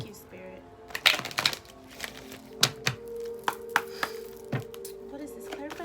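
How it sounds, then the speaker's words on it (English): Several crisp, papery riffles and slaps of tarot cards being shuffled, in short bursts with pauses between, close by over a quiet room hum. "One more shuffle."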